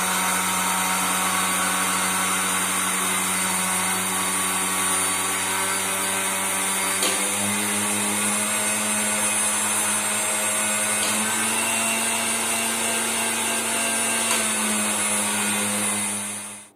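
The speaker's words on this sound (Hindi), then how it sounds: "तो धनिया तो मैंने पीस लिया था" Coriander seeds being ground for radish pickle in a kitchen electric grinder, a loud steady whir that runs without a break, shifting pitch slightly partway through as the load changes.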